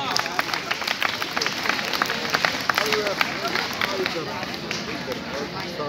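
Applause fills a hall at a school prize distribution ceremony, a steady crowd clapping with scattered sharp claps while a voice speaks over it.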